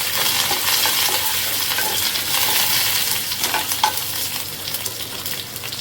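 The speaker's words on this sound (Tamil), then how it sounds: "கடுகு உளுத்தம் பருப்புலாம் பொரிஞ்சிச்சுங்க." Loud, steady sizzling of mustard seeds and urad dal frying in hot oil, a dense crackle with occasional sharper pops, close up and without speech.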